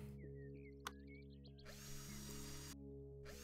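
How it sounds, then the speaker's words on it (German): Screwing covers on and off in the House Flipper video game: short bursts of a power screwdriver whirring and ratcheting, with small clicks and squeaky mechanical chirps over a constant low hum. "Wir schrauben die jetzt auf."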